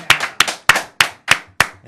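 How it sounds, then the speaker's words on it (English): An audience claps for a poet introduced on a Fresno show, heard as six sharp, evenly spaced claps about a third of a second apart, close and loud with no voices. "I want you guys to give me a big round of applause for this dude."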